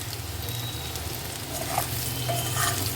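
Red amaranth stalks frying with onion and garlic in a pan, a steady close sizzle that grows slightly louder toward the end, with soft stirring scrapes.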